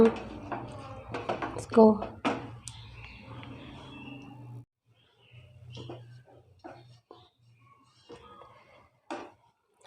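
Sesame laddu mixture being stirred in a bowl with a spoon, giving clinks and scrapes of metal on dish that come in short bursts, with someone speaking in Hindi in between.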